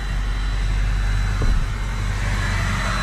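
A 2005 Ford F250 diesel 4x4 pickup idles steadily, its low engine and exhaust rumble constant throughout with a brief swell in the middle, heard close up with no talking.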